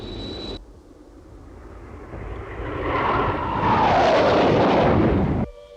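A stolen MiG-242 jet aircraft in a Joe 90 episode roars past, its engine noise swelling loud with a rising whoosh and then cutting off abruptly, with no talk.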